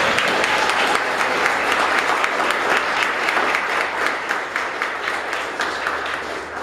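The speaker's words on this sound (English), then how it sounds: "So let's just give them a round of applause." Sustained audience applause at a charity event for the TEAMWORKS program at Sweet Decadence in Newcastle, Washington, a dense, steady wash of many hands clapping that holds loud throughout and thins slightly toward the end.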